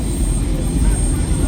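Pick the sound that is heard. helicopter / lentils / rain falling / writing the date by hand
helicopter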